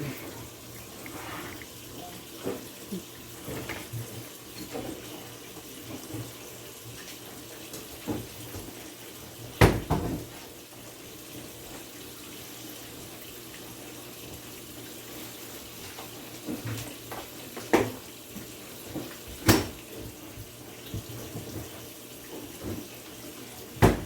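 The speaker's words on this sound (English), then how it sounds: "Run my hot water" A kitchen tap runs hot water steadily into a sink at low volume, with scattered clinks and knocks of dishes over the flowing water.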